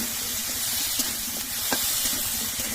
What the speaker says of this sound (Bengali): এখন আলুটা বেশ কিছুক্ষণে নাড়াচাড়া করে নিয়ে তারপরে লবণ দিয়ে দেবো।